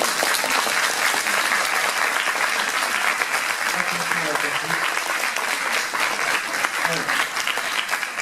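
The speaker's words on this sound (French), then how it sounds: "Allez, on peut les applaudir." Audience applause for cosplayers at a costume parade during a 2015 convention in Dijon, sustained steady clapping from a sizable crowd, dense and loud throughout, with faint voices mixed underneath.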